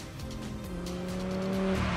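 Audi R8 Green Hell with a naturally aspirated 620 hp V10 and seven-speed dual-clutch gearbox, heard driving with a steady engine note that builds in loudness, a sustained rising tone near and alone.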